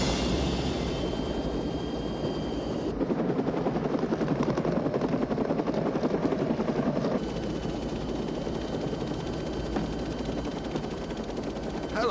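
A helicopter flies close by in a 1994 film, its rotor chopping in a steady, loud, continuous rhythm throughout, with no speech over it.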